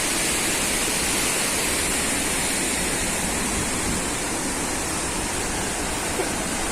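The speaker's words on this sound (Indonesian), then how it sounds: "situasi di air terjun Kedabuhan ini" Kedabuhan waterfall on the Lae Kombih river roars in a steady, dense broadband rush that fills the whole stretch without a break, with no voices over it.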